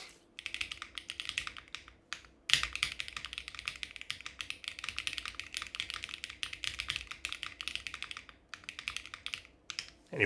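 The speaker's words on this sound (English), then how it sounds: "This is the best Hall effect keyboard you'll ever hear in your life." Rapid, steady typing on a foamless Hall effect keyboard, sharp clacky keystrokes tumbling in fast continuous bursts with one brief pause, close and loud, with no voices.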